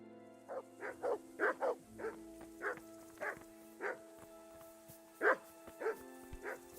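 Dogs in a medieval village in Kingdom Come: Deliverance bark in a steady run of sharp, fairly close barks over a low humming background, with no talking.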